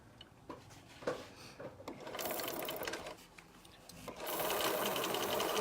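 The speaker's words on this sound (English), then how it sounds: "back to the sewing machine" A sewing machine runs in stitching bursts, its fast mechanical whir starting, pausing and speeding up again, close by with no talking.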